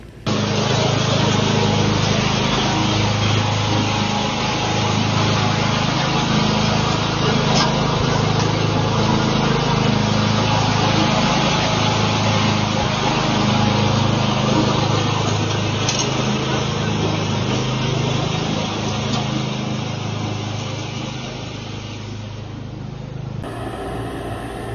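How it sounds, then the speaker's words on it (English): A lawn mower runs steadily and loudly near the microphone for the whole stretch, its engine drone holding even before easing slightly toward the end. "Time to mow the lawn."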